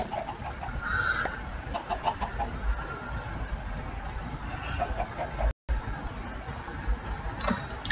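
Minecraft chickens cluck intermittently over a steady background hum, with a few brief sharper calls standing out near the start.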